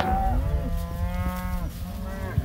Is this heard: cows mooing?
yes